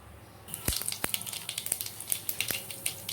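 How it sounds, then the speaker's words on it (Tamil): Mustard seeds spluttering in hot oil in a kadai, with a steady close sizzle broken by several sharp, loud pops scattered across the clip. "கடுகு நல்லா பொரியணும்."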